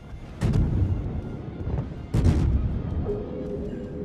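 Naval guns fire armor-piercing shells in World of Warships, where a Duca degli Abruzzi cruiser is under fire from a Fushun: two heavy booming salvos about two seconds apart over a low rumbling battle background.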